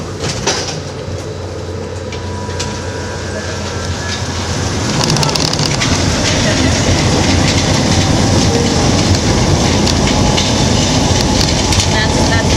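A US Capitol subway metro car passes on its track, the rumble and rhythmic clatter swelling midway and holding loud to the end, with faint voices in the background early on.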